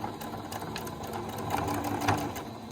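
A sewing machine stitching fabric for a flat-bottomed zippered bag runs in a continuous close whir, with a slight surge near the end as it back stitches; no one speaks.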